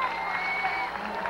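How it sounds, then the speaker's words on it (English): At the 1985 Ironman Triathlon World Championship, a crowd claps and cheers steadily as triathlete Joanne Ernst leaves the transition area, a brief wash of applause with a voice faintly over it. "That was Joanne Ernst going out of here with a big cheer."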